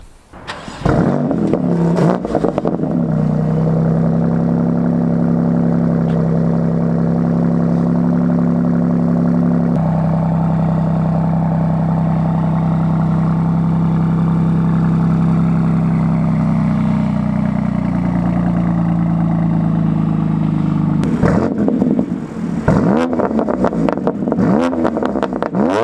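BMW M2 Competition with a modified stock exhaust, loud and close, idling with a deep steady rumble, then sharp revving bursts near the end.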